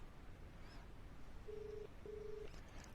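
Two steady ringback tones of an outgoing phone call placed through Aircall from HubSpot sound faintly in a quiet room, each lasting under half a second with a short gap between them.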